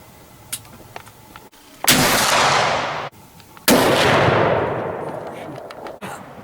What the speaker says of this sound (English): He was using my muzzleloader. Anyway, he takes this shot right here.